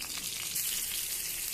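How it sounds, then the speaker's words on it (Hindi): Dried red chillies crackling in hot oil in a kadhai with fenugreek and cumin seeds, a dense steady sizzle and spatter throughout, close and fairly loud with no voices. "इसमें सूखी मिर्च डालेंगे,"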